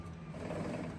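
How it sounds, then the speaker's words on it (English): A Barracuda's starter teeth grind against the flywheel teeth as the engine is turned over, a brief, faint, rapid mechanical rattling buzz. "That is the noise of the starter teeth rubbing the teeth on the flywheel."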